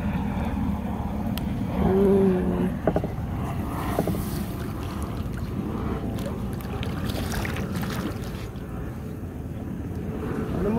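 A boat moves on open water, heard as a low, steady rumble and water wash with gusty wind buffeting the microphone, continuous and close.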